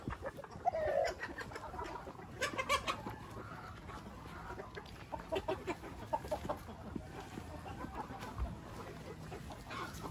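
Light Sussex and Rhode Island Red chickens cluck and chatter at a farm breeding area, a busy scatter of close, overlapping calls with occasional louder squawks.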